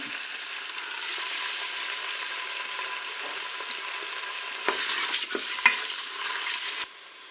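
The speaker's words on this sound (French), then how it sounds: "Je vais commencer à faire revenir mes steaks de thon." Tuna steaks frying in a Cookeo multicooker give a soft, even sizzle that runs quietly, broken near the end by a few light knocks and scrapes before it cuts off abruptly.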